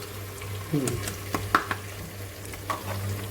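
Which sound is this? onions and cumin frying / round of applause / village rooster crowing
onions and cumin frying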